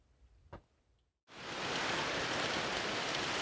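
After a faint tap and a brief silence, heavy rain suddenly begins, a steady close hiss that continues to the end.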